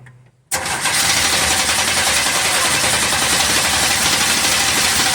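An old car called Myrtle catches after hard cranking on a good battery and roars into a loud, steady running engine. A brief low crank comes first, then a sudden start that holds at full volume.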